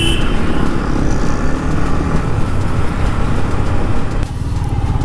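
A Yamaha MT15 BS6 motorcycle climbing a gentle slope in fourth gear at about 30 km/h, its engine giving a loud, close, steady throbbing drone with wind rush, dipping briefly near the end.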